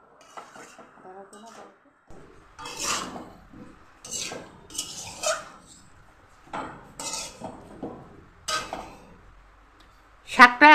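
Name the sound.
lid lifted off a cooking pot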